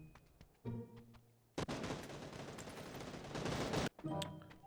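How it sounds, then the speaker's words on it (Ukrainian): A sustained burst of rapid gunfire in PUBG fills the middle, with sharper isolated shots before and after. "чули, хтось стріляє"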